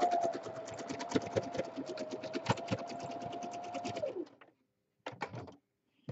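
A sewing machine zigzag-stitches pastel fabric strips with a fast, close, rhythmic mechanical clatter and a steady motor whine for about four seconds, then stops before starting again in brief bursts.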